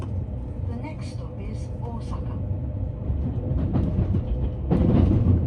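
A Raku Raku Yamato commuter limited express between Nara and Osaka slows on the rails near Imamiya, its low rumble and wheel noise growing louder toward the end, with a voice talking over it.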